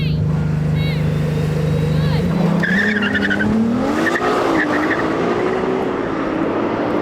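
A Porsche 911 Turbo S and a Ferrari 296 launching off the line in a drag race, a steady engine drone jumping into loud revving and rising engine roar with a brief tyre squeal, close and intense.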